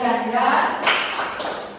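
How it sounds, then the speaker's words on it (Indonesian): A classroom of tenth-grade students performs a rhythmic spirit clap, brisk claps blending with voices that chant along throughout. "Tepuk semangat baru"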